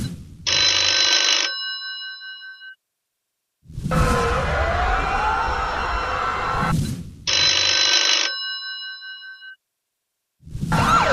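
A telephone bell rings at night in loud, repeated bursts, each about two seconds long, separated by short silences, alone with no talking.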